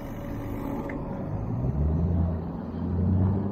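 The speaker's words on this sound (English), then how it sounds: "There goes the electric car." An electric car passing on a one-way stretch of 4th Avenue, heard as a low rumbling swell that builds and fades under steady street noise, with no talk.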